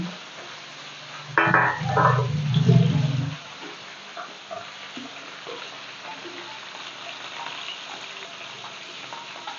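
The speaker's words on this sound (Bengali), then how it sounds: "চোপা চোপা তেল দিয়ে একটু ভেজে আমি তুলে নেবো" Hilsa fish pieces and heads fry in a little oil for a light black-cumin curry, a loud burst of sizzling and clattering for a couple of seconds settling into a quieter continuous frying hiss.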